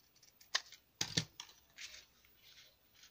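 Scissors snipping paper for a flip book, a few quick close cuts in short bursts with quiet gaps between them.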